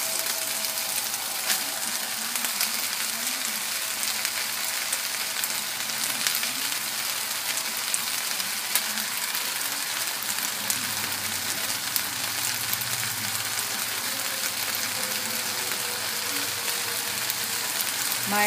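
Tomato for bistec ranchero sizzles and fries in a pan, a dense, continuous hiss like light rain that stays loud and even throughout, with faint low rumbles underneath.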